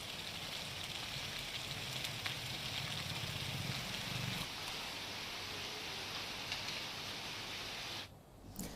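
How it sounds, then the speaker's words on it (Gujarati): Heavy monsoon rain falls across Talada in Gir Somnath, Gujarat, as a dense, steady hiss with a low rumble underneath that cuts off abruptly near the end. "તલાડાના અલગ અલગ વિસ્તારોમાં ધમાકેદાર વરસાદ વરસી રહ્યો છે"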